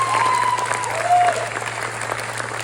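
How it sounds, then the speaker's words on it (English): Audience applause at a South River High School spring pops concert honoring the class of 2025, a steady dense clapping across the whole stretch, fairly loud, with a faint voice and a brief tone poking through. "one big round of applause for our class of 2025"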